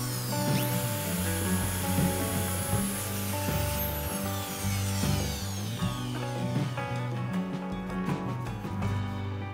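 A power router whines steadily as it cuts through wood along a jig for a speaker build, a loud continuous grinding roar with a humming motor tone throughout.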